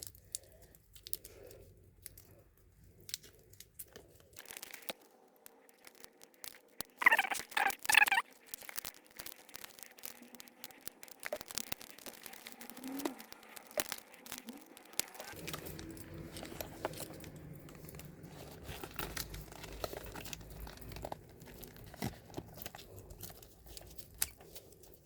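Packaging stuffing pulled from a new Coach Tabby 26 handbag makes soft, faint crinkling and rustling, with a brief louder crumple burst early on and quieter intermittent handling noises after.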